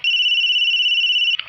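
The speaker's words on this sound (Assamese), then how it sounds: "কেইদিনমান পাছত মোৰ মোবাইললৈ এটা অচিনাকি নম্বৰৰ পৰা ফোন আহিলে।" A mobile phone rings for an incoming call from an unknown number: one loud, steady electronic tone that holds unbroken for over a second, then cuts off abruptly.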